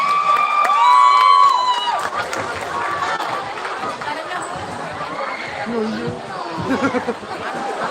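A crowd at a youth talkshow event cheers and chatters as the next participant, from MAN 1 Palembang, is welcomed, with loud shouts and whistles at first and then a steady babble of many voices.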